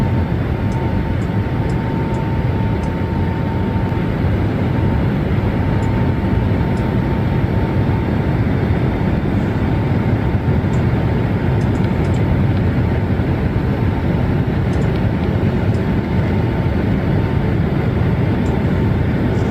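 A Boeing 737 in Microsoft Flight Simulator drones with a loud, steady, continuous engine roar throughout, with faint faint clicks above it and no talk.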